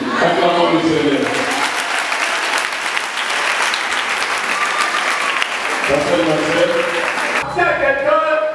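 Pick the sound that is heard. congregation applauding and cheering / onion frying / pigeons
congregation applauding and cheering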